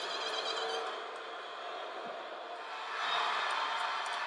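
Basketball crowd at a WNBA game involving Chicago and Indiana, a broad steady roar of many voices filling the arena that swells louder for the final second or so.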